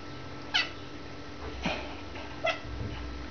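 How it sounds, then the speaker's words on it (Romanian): Three short, high cat meows spaced about a second apart, fairly close, over a low steady background hum. "Pisică."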